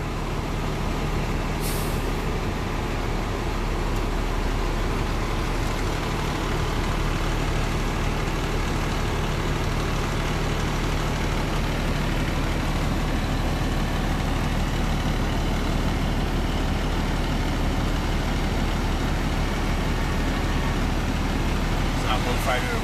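A loaded 12-wheel truck hauling snow, its engine a loud, steady low rumble with road noise that runs unbroken throughout, plus a brief hiss near the start.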